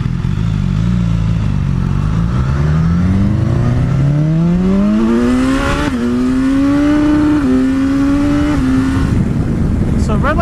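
A brand-new BMW S1000XR motorcycle engine revs up from idle, its pitch sweeping steeply upward toward a 9,000 RPM redline, holding, then dropping in steps, loud and close throughout.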